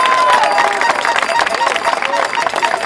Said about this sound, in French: je tiens évidemment à ce que vous applaudissiez nos musiciens